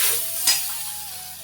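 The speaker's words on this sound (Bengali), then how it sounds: "মশলাটা এখন ভাজা ভাজা হচ্ছে" Spices fry with a soft hiss in a pan, with a brief scrape of stirring, quiet and close.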